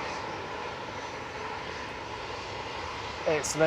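An EasyJet A320 jet airliner at Manchester Airport gives a steady, fairly distant engine roar that holds throughout, with a voice speaking briefly near the end.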